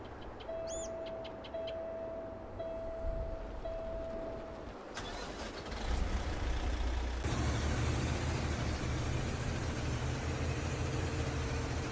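Trucks driving in a farming video game, heard as a steady engine rumble and road noise that swells louder partway through, with a brief air-brake-like hiss.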